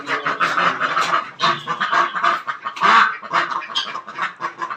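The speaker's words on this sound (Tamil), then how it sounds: "வாத்து நிறையா வருதுங்க." A group of ducks quacks nearly nonstop as they approach, in a loud, close chorus of overlapping calls.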